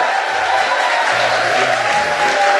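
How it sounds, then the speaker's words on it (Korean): A church audience claps together in a sustained burst of applause, dense and steady throughout at close range, with a low murmur of voices underneath. "박수 한번 주시기 바랍니다."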